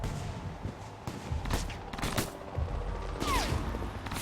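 Gunfire in the Alpha Protocol video game, sharp shots and bursts cracking at irregular intervals over a low rumbling background, fairly quiet in the mix with faint other game sounds.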